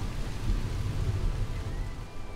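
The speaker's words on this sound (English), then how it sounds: "Abundant rain," Heavy rain in the Asir Mountains falling as a dense, continuous rush with a deep low rumble underneath, steady and enveloping with no voices.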